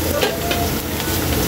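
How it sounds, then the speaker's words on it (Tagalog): Garlic sizzles steadily in hot oil in a pan, browning toward golden; a loud, continuous crackling fry with faint stirring textures and no talk. "Lang natin mag-golden brown kaili ang ating bawang."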